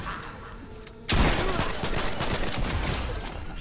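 A mythic weapon in Fortnite opens fire suddenly, and a dense, sustained burst of rapid gunshots follows, moderately loud.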